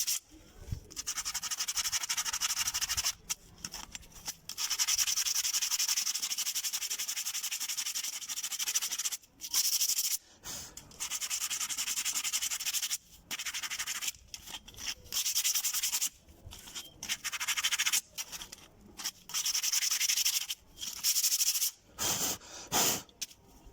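Repeated gritty sanding strokes on the edges of front brake pads for a Fiat Siena/Palio, close and hissy, in bursts separated by brief pauses, continuing for over twenty seconds.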